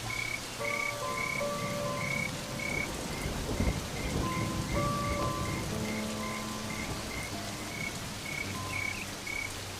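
Heavy rain falls steadily in the Serengeti, a dense continuous hiss with low rumbling beneath, while frogs croak and trill in repeated pulses close by throughout.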